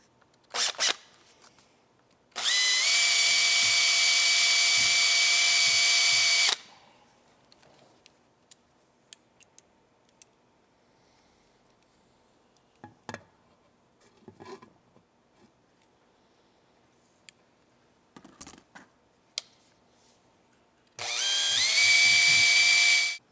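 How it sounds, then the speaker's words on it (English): A power drill fitted with a sanding flap disc whines steadily in two loud, sustained runs while sanding a part, separated by a long stretch of quiet clicks and small handling noises. "you can use a sanding flap disc on a drill"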